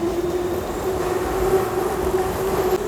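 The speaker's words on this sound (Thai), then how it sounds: "รถไฟกำลังวิ่ง" A train rumbles past at close range near Victory Monument in Bangkok with a steady, loud roll and a faint squeal of wheels on the rails, no voices.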